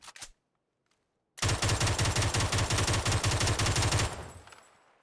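A 7.62 Groza rifle in a video game fires a rapid, loud automatic burst of about twenty evenly spaced shots, preceded by a short click and followed by a fading echo.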